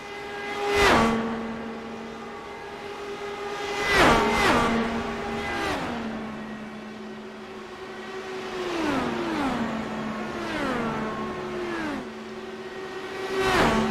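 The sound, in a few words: IndyCar race cars passing in a racing video game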